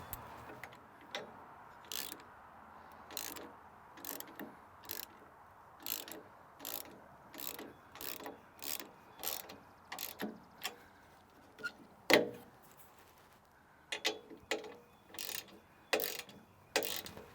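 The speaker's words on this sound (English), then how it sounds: "1/2 inch wrench or ratchet or 13 millimeter and just tighten it up." A ratchet clicks in short, rhythmic strokes while tightening 13 mm bolts on a tractor's ROPS-mounted LED work light bracket, each stroke a crisp metallic burst, close and steady, with a sharper clank midway.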